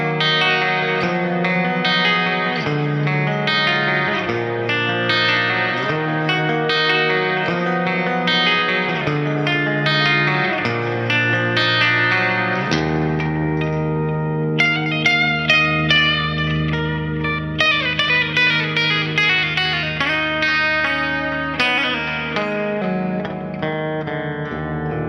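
A distorted electric guitar, a Gibson Dave Mustaine signature Flying V, plays fast metal riffs and melodic runs, with chugging low notes and soaring lead lines heavy with effects and reverb, loud and up close with no talking.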